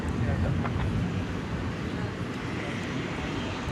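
An Alaska Airlines airplane at DFW Airport at night, a steady broad roar of jet engine noise mixed with wind buffeting, continuous and fairly loud throughout.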